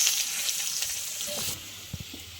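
Chopped carrots, potatoes and other vegetables fry in a pan for a dalia pulao, with a soft continuous sizzle that quiets partway through, then a few light stirring knocks.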